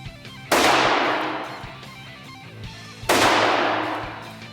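Two loud, sharp gunshots from a low-recoil 5.7x28 firearm at an outdoor range, spaced about two and a half seconds apart, each with a long echoing decay over a low background hum.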